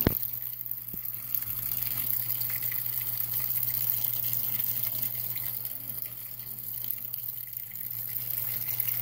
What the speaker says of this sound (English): We're gonna wash the Kacey, so that's it